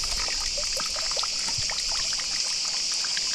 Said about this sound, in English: here you can fill up your water, fresh spring water from the mountains